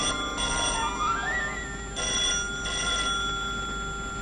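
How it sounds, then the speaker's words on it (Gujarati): A telephone rings indoors in a few loud electronic bursts separated by short gaps, with a faint sliding tone between rings and no talking over it. "દેવનો જ ફોન હશે."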